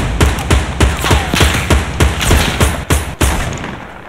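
Rapid bursts of gunfire in the Fortnite video game, loud and close, a quick string of sharp shots in uneven clusters with heavy thumps, no talk over them.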